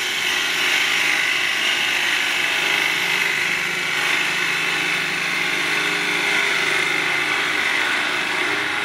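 Wood lathe turning a lidded box with a gouge rubbing its bevel, a steady broadband whir and hiss of cutting that holds at an even level throughout, with no talk.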